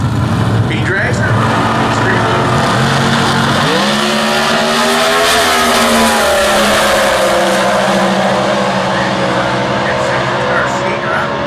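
B.J. Sexton's B Dragster launching in Comp Eliminator drag racing at the US Nationals in Indy, a loud engine roar that rises sharply in pitch as the car pulls away, with an announcer talking over it.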